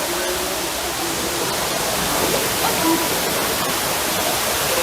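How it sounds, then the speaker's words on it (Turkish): A waterfall in a natural setting, pouring as a steady loud broadband rush of falling water without a break. "Böyle şelaleyle sizi baş başa bırakayım biraz."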